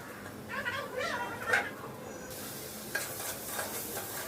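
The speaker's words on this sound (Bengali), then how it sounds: "পেঁয়াজ আমার ভাজা হয়ে এসেছে, এবার দিয়ে দেবো 1/2 চা চামচ হলুদ গুঁড়ো" Fried onions in a pan with turmeric and other ground spices being stirred, soft sizzling under scraping spoon strokes, close and moderately quiet, no talking.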